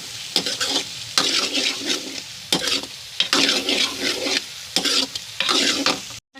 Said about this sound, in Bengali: এখন মশলাটাকে ভোনা করি এটা জাস্ট ভাজি করতে হবে